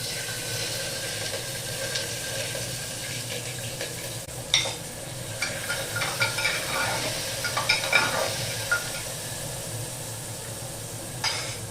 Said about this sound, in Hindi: तो जीरा का फोरन डाल चुकी हूँ, और प्याज और 7 से 8 हरी मिर्च और 2 टमाटर कट कर ली हूँ। तो पहले प्याज लाल कर लूँगी